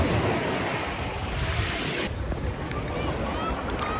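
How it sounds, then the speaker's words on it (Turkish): Mediterranean waves washing onto a beach in Nice, a broad, continuous roar of surf mixed with wind buffeting the microphone, loud and close throughout. "Ve Nice'de, Akdeniz'de mükemmel bir plaj."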